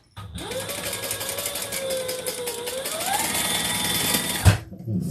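A sewing machine stitches continuously for about four seconds, a fast whirring hum that rises slightly in pitch, ending with a clunk and brief stop.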